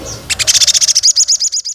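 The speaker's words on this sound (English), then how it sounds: "P for parrot." A parrot call: a rapid, regular series of bright, loud chirps repeats about a dozen times, close and alone.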